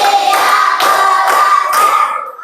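A group claps in rhythm during a classroom clap game, with several distinct bursts of hand claps spaced about half a second apart, close and fairly loud, with almost no talking.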